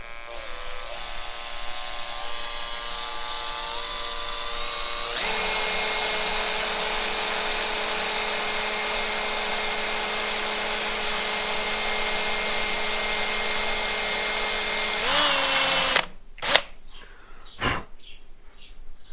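A power drill bores out studs on a cracked Citroen 2CV exhaust manifold, a loud close whirring whine that steps up in pitch and load partway through, then cuts off, followed by a few sharp clicks and knocks.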